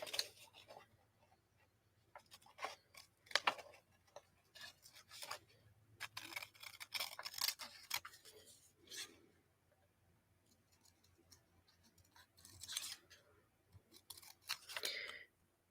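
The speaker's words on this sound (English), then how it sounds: "these are not the right scissors for doing this either." Scissors snip and crunch through material in quick irregular bursts, close and faint, with short pauses between cuts.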